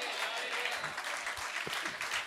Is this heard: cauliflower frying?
no